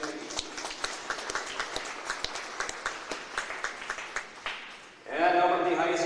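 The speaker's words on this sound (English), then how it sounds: "Let's give a round of applause for Mayo Clinic and the important role that they play in our Tigers community." Crowd at a high school boys basketball game in a gym breaks into applause, a short swell of clapping, before a loud voice over the public address system takes over.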